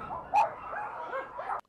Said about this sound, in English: This was just a massive amount of barking, and you could tell it was, you know, a big, large group of dogs.